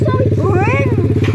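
A modified SSR125 pit bike revs hard during a hill climb wheelie, its engine a loud close buzzing drone throughout the short burst, with a voice briefly audible over it.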